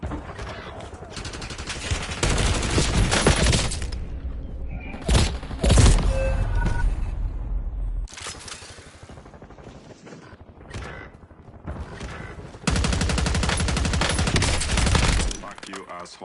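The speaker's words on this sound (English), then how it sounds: "Small caliber rounds" Small-caliber gunfire crackles in dense, sustained bursts from a rooftop shooter, pausing and resuming loudly several times while voices shout over parts of the exchange.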